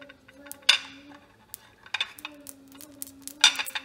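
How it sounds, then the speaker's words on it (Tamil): Cloves, cinnamon, cardamom and red chillies dry-frying in a hot pan with no oil, heard as sparse, light ticking pops and clinks that arrive one at a time over a quiet background, close by. "பாருங்க, நல்லா சூடாக இருக்கிறதால டக்கு டக்கு டக்குன்னு அது ஃப்ரை ஆகுது."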